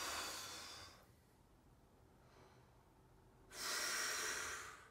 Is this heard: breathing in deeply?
yes